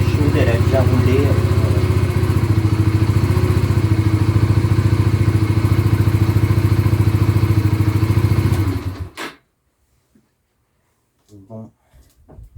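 A motorcycle restarted after two weeks unused idles with a steady, close putter, then the engine cuts off and goes silent, followed by brief talk.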